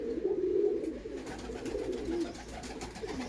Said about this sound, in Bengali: আর এটা আকাশপুকুরির পায়রা।